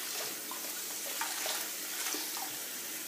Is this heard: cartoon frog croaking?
no